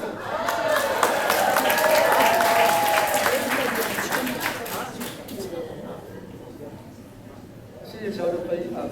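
Church congregation at a Mother's Day service applauding and cheering, a dense burst of clapping and voices that swells loudly for several seconds, then fades into quieter murmuring chatter.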